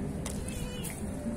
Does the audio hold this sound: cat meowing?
yes